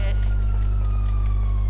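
Fire engine siren arriving in a video game, a loud wailing tone over a heavy low rumble, sustained and close, with a voice talking over it.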